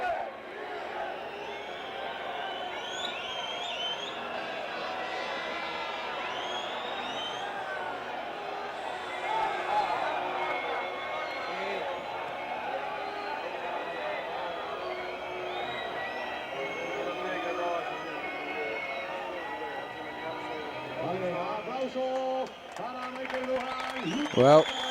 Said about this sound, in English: Mick Doohan does get some applause, but it's all amidst the boos